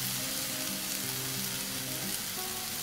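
Quartered chopped tomato and a chili frying in a pan for a Malabar stuffed chicken gravy, giving a steady, close sizzle that holds evenly throughout with no talk.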